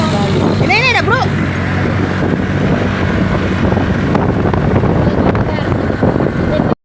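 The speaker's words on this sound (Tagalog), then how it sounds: "nakasakay na kami sa motor niya. Ang lakas talaga niya magpatakbo." Wind rushes constantly past the microphone as riders travel on a fast motorcycle, with the low engine roar mixed into the buffeting. A brief voice cuts through near the start.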